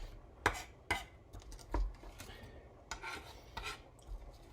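A knife repeatedly scraping and chopping through garlic on a cutting board, mincing it into a puree while making pasta carbonara. Close, dry rasping strokes with several sharper knocks, scattered irregularly.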